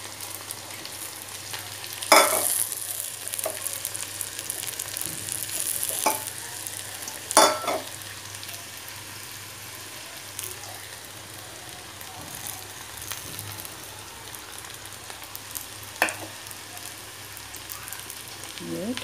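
Onion and spices frying with bitter gourd and okra in oil, a low continuous sizzle with a few sharp scraping stirs and clatters spaced several seconds apart, close by, no talking.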